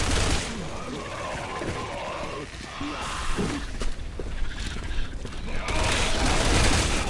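Submachine gun fire in Resident Evil 6 during Ada Wong's campaign: dense bursts of automatic shots with booming game effects, loud and continuous, mixed with in-game sounds and a player's talk.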